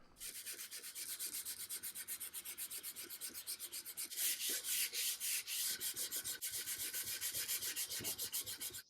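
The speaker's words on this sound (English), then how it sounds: "spend a long time sanding by hand" Steady back-and-forth rasping of sandpaper hand-sanding an old broken wooden stool, close and rhythmic, with even strokes repeating for several seconds.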